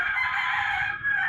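A rooster crows loudly and close by in one long sustained call, with a brief dip near the end before the cry resumes.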